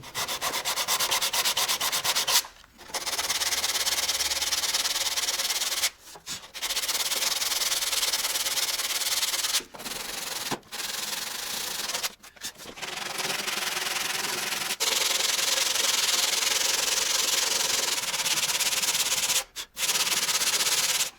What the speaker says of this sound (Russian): Сначала зачищаю пластик